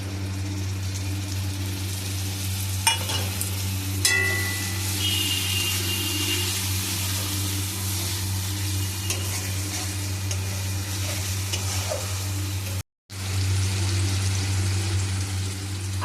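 Chicken curry in a pan with turmeric and dried chili paste being stirred, a continuous sizzle under occasional soft scrapes and a steady low hum, close and even throughout.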